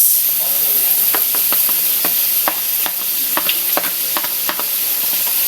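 Tomatoes sautéing with chicken and chayote in a pan: a steady, close sizzling hiss with repeated short clicks and scrapes of stirring throughout.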